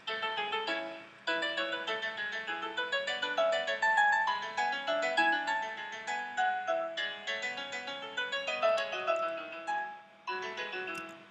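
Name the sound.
playback of a composed musical invention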